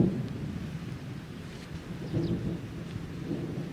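Rain falls steadily outdoors with low rumbling thunder rolling underneath, a continuous soft wash of sound without voices.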